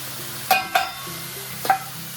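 A spoon scrapes through tomatoes, corn and quinoa in a skillet over a steady sizzle, with three distinct stirring strokes, close and fairly loud.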